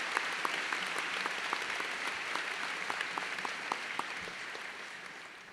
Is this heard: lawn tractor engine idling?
no